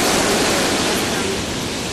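Ocean surf at Baler beach in the Philippines roars as a continuous dense wash of breaking waves, loud and broadband without pause.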